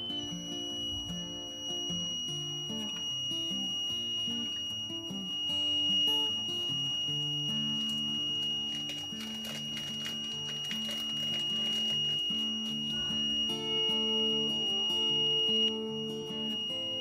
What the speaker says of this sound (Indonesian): Perhatikan pada tegangan berapa buzzer mulai berbunyi.